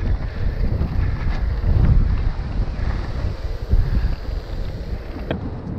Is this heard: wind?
yes